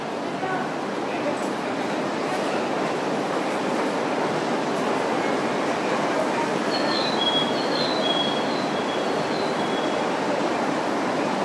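A JR East Senzan Line train stands at a station platform in Japan, producing a steady, loud broadband rumble and hum with faint high squeals, while a public-address announcement plays over it.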